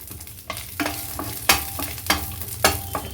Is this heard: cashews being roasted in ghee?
yes